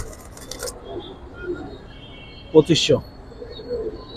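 Giribaz coloring and pangkhi pigeons offered for sale give a brief burst of cooing calls midway, close by, while someone talks prices over them.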